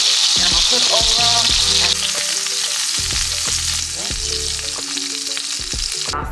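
Jerk burger patties sizzle loudly in a hot pan, a dense continuous frying crackle with background music playing underneath.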